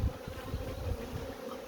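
Bees from a swarm that moved into stacked hive supers give a soft, continuous, low buzzing hum, steady and fairly faint, with no voices.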